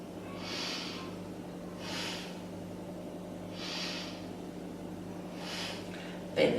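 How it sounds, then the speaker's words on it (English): Several slow, deep breaths taken during a beginner yoga session, four soft airy swells spaced about every one and a half to two seconds over a low steady hum, with a small bump at the end. "Take 3 big breaths."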